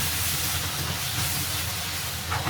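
Soy sauce hitting chicken wings in a hot wok gives a steady, loud broadband hiss that holds evenly throughout without a break.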